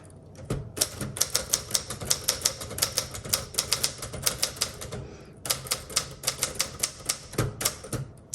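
Steady, rapid typing on a 1970s Adler J5 manual typewriter: dense runs of crisp key strikes close up, a brief pause midway, then more keystrokes with no talking.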